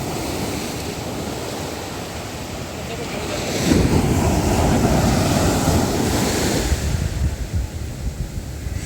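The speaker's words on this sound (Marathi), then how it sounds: "लाटा भरपूर येत आहेत." Ocean waves roll in and break loudly on the shore at Devgad on the Konkan coast, with a heavy surge midway and steady wind rushing across the microphone.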